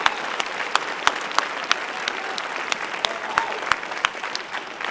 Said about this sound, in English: let's give a big round of applause for all of those groups